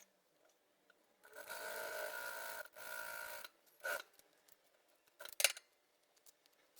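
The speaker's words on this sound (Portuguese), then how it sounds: "eu vou lá na máquina costurar e já te mostro" A sewing machine stitches a patchwork block for a tea towel in two quiet bursts of steady whirring, followed by a few short clicks and brief fabric handling.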